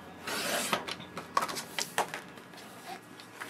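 Vintage cream cardstock is cut for a card, with a few close, dry rasping slides of a trimmer blade across the paper, quiet and alone with no speech.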